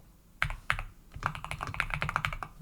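Code typed on a computer keyboard, close, crisp key clicks in uneven bursts, slow at first and then quickening into a steady run of keystrokes.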